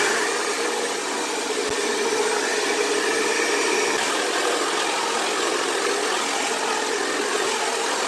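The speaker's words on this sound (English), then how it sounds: "I only have a high, low, and off setting for the heat on the hair dryer" Hair dryer with a diffuser on low heat and low speed, a steady close airy whoosh with a faint motor hum, constant and unbroken throughout.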